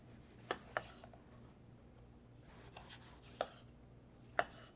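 A knife chopping green pepper on a cutting board, with a handful of sharp, spaced taps against a quiet room background and no talk.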